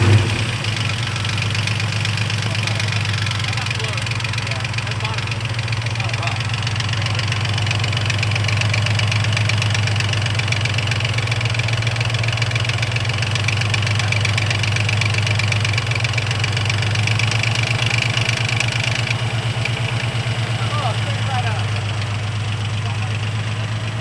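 A Terminator Cobra's engine idles steadily after starting, with a loud, low, rumbling drone and a faint ticking, knocking undertone that holds for the whole stretch.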